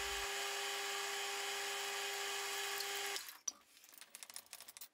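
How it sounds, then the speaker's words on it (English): An 8mm end mill cuts metal with a steady, loud, high whining drone that holds for about three seconds, then stops abruptly, leaving scattered faint clicks and handling noises. "so what I'll do instead is simply use an 8mm end mill"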